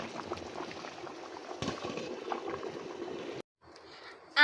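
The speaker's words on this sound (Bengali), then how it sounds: "আর একটু ফুটবে" Chicken curry boiling in a covered pot: a steady bubbling, simmering wash close by, ending abruptly before a quieter gap.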